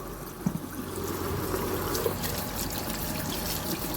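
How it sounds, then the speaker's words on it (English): Mangoes with the skin on are rinsed under running water, giving a steady trickle and splash throughout with a few brief knocks of fruit near the start. "I'm washing my mango again. Yes, I washed them with the skin on"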